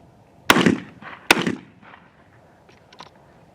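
A Cimarron 1878 double barrel shotgun fires two loud, sharp blasts about a second apart outdoors, each trailing off in a short echo before quiet handling noises.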